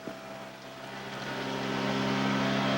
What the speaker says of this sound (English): I love the sound of an outboard.